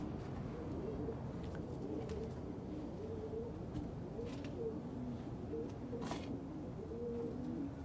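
Pigeons coo softly and repeatedly in the background, with a few brief chirps over a steady low outdoor hum.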